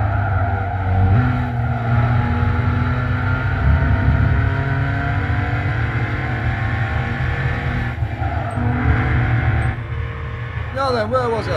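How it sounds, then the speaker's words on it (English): Tangerine VW Samba bus racing around Suzuka in Gran Turismo 5, its engine droning loudly and steadily throughout with a brief tyre squeal near the end, while someone talks over it. "The Samba bus and the way the Vic Roberts channel have set it up proved quite an interesting beast to race."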